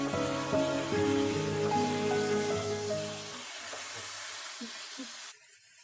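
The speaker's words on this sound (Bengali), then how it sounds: "এই তেলের ভিতর দিয়ে দেবো বেগুন।" Eggplant pieces hiss and crackle in hot oil in a pan, a soft, steady sizzle that sits under some tonal ringing at first and then continues alone before cutting off.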